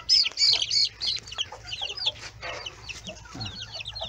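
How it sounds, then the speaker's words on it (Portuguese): A hen clucking among her brood of sixteen chicks, soft low clucks mixed with many rapid high peeping calls from the chicks, close and lively, with no talk over it. "ali com essa galinha, são 16 pintinhos que ela tirou."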